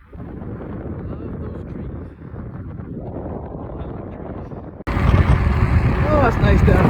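Wind blows by the water on a cool day, a steady low rushing that swells into louder buffeting gusts against the microphone partway through, with no talk over it.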